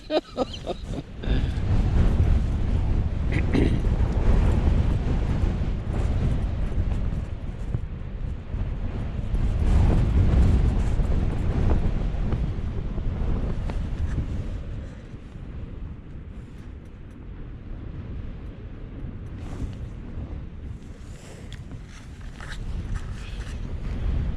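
Strong gusting wind buffets the microphone on Helvellyn's summit during a wild camp, a loud, constant roar that swells and eases, dropping slightly in the second half.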